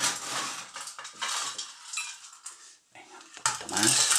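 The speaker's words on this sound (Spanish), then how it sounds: "Vamos a echar un poquito más de hielo picado." Crushed ice is spooned and scraped into a glass for a coffee liqueur drink, with irregular clinks and rattles of ice and utensils in short close bursts, broken by a brief pause.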